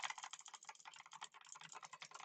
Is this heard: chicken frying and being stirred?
no